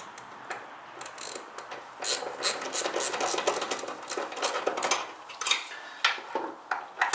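Engine mounting bolts on an MGB being tightened with a ratchet wrench during an engine and gearbox refit, giving a run of quick metallic clicks and ticks, close and fairly quiet, with no talk.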